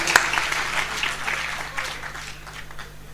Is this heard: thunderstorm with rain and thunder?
no